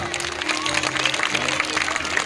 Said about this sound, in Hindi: आप इनका उत्साहवर्धन करें तालियों के साथ।